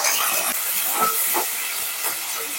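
Dried prawns hitting hot oil, a loud, dense sizzling hiss that swells in bursts and holds steady over a few seconds, with no voices.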